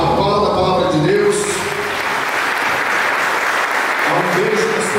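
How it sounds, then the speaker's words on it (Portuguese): A church congregation breaks into loud, sustained applause after a Bible reading, a dense wash of clapping with a voice speaking over it at the start and again near the end. "Aplauda a palavra de Deus."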